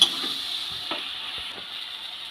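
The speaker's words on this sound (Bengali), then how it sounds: "হলুদ লবণ দিয়ে কাঁচা টমেটোটাকে ভালো করে ভেজে নেব" Raw green tomatoes fry with turmeric and salt in a pan, giving a steady sizzling hiss broken by a few soft knocks of stirring.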